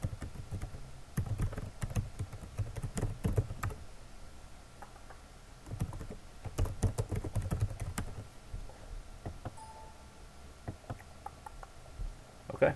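Computer keyboard typing while a link is inserted for an ad submission, quiet clustered keystroke bursts in irregular runs with short pauses, close and soft, no voices.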